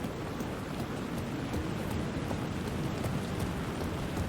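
Steady, dense rain pours throughout a foggy, neon-lit New York night scene in the Alan Wake II video game, a constant loud hiss of falling drops with no voices.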